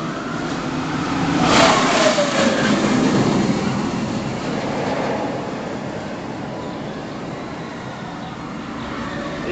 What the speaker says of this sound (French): ce deuxième train qui lui par contre fait un bruit assez étrange pour un BM avec des roues en polyuréthane